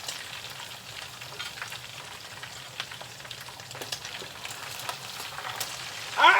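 Ribs sizzle and crackle steadily in hot frying grease, a close, continuous hiss with faint pops, ending in a louder clatter.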